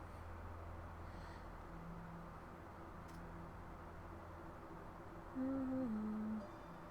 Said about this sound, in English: Whoa, that bird sounded upset. Don't know if you heard that. I think it was a crow?